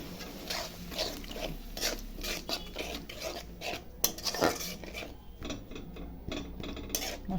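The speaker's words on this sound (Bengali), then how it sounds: "মশলাটা ভালো করে কষাবো।" Spice paste for a pabda fish curry is stirred and fried in a pan, with continuous rasping and scraping of the spoon against the pan at close range.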